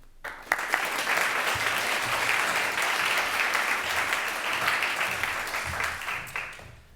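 Sustained applause from a lecture audience welcoming Tom Mitchell to speak, a dense, steady wash of many hands clapping for about seven seconds before tapering off.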